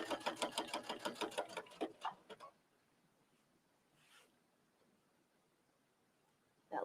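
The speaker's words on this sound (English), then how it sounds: "And I'm just stitching with about 1/4 inch seam allowance." Sewing machine stitching a quilted book cover with a quarter-inch seam, a fast rhythmic run of needle strokes for about two seconds, then stopping into near silence before a brief restart at the end.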